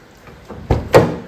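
A Toyota Corolla door lock being unlocked gives a few quick mechanical clicks and clunks that build to a sharper final knock, close by.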